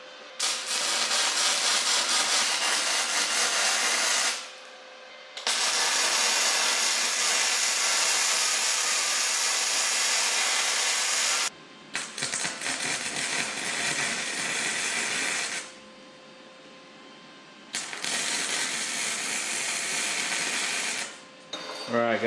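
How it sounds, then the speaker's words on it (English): Flux core welder laying a fillet weld, a steady loud crackling hiss in long bursts of several seconds separated by short pauses, with no talking over it. "I got a little bit more of a fillet weld there. And I'm going to try to weld that in solid."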